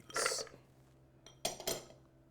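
Frozen cranberries tumble into a blender jar in a few quick, hard clattering bursts, a first rattle and then two sharper ones after a pause, fairly close and alone.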